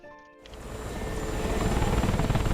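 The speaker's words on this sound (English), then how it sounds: "Molvich trying to find that Mi-24" Mi-24 attack helicopter in a combat flight game, its rotor and engine roar swelling from near silence into a loud, steady, pulsing drone that holds to the end, with no one talking.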